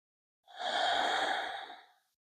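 One long, soft exhale, like a sigh, during a gentle beginner yoga stretch, close and quiet, rising and fading over about a second and a half.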